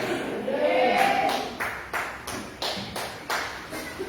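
Church congregation at a live worship and preaching service clapping, a dense round of applause followed by several sharp unison claps in a steady rhythm, with a voice talking over the start.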